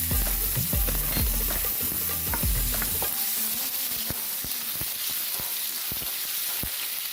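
Garlic fries in a tablespoon of oil in a pan, giving a continuous bright sizzle with sharp clicks of a utensil stirring at an irregular rhythm, close and fairly loud.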